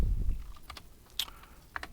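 A handful of keystrokes on a computer keyboard as a command is typed into a Windows Azure directory prompt, light scattered taps close by after a brief low thump at the start.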